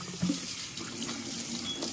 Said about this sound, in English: Now your noodles, run it through cold water.